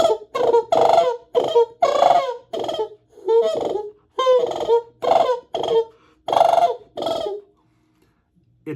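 A hunter's goose call blown to mimic a sandhill crane gives about a dozen loud, honking rattled calls in a steady rhythm, each short and close, ending in silence.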